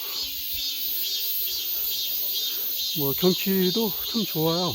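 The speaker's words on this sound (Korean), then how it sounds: "이제 주변에 매미도 울고" Cicadas drone steadily along a forest trail on a wooded mountain, a continuous high buzzing that runs throughout while someone speaks over it in the second half.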